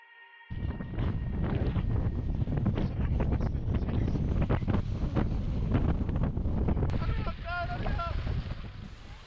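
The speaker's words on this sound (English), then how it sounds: "As you can tell by the wind, it was starting to get really windy in places." Strong wind blasts across a Scottish mountain ridge, roaring and buffeting the microphone continuously for several seconds, loud and close, with some faint rustling near the end.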